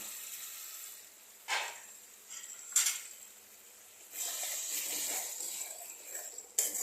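Rohu fish curry with onion simmering and reducing in a pan, giving a soft, steady sizzle with a few brief clinks of a utensil against the pan, fairly quiet and without talk.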